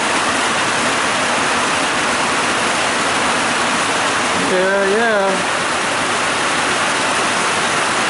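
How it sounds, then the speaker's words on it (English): Steady rain pours down outdoors in a dense, loud, continuous hiss, with a voice speaking briefly partway through. "It's been raining now for about 10 minutes."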